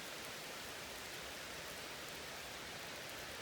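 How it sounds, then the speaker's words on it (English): Heavy rain pours steadily near a railway fill and tunnel outside Allentown, Pennsylvania, making a constant, even, low-level hiss with no breaks and no voices. "It's raining pretty hard."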